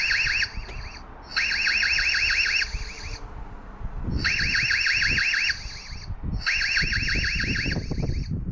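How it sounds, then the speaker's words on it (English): A shrill electronic alarm from an EZVIZ CB8 security camera sounds in repeated warbling bursts, each about a second or two long, separated by short gaps, loud and close over a low background rumble. "pressing this button is going to activate the alarm on the camera for 60 seconds"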